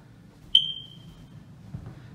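A single short, high-pitched electronic chirp from a smoke detector, ringing out briefly before fading, against a quiet room.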